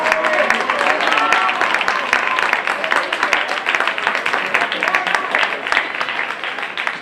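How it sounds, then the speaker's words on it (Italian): Spectators at a regional senior championship women's 1500 m race in Rovereto applaud a runner on the final straight, with steady clapping and crowd noise blending with a commentator's voice throughout. "Riceve l'applauso nel rettilineo conclusivo."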